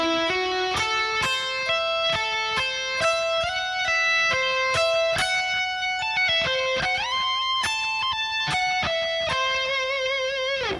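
An electric guitar plays a high solo phrase with hammer-ons, pull-offs and bends, giving a fast run of distinct, sustained notes with a clear bend in the middle, loud and alone without talk.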